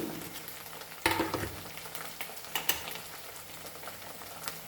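Ground masala spices including turmeric, red chilli and coriander powder sizzle in a pan with squid, a steady close frying hiss broken by a few sharper stirring and scraping knocks, without speech.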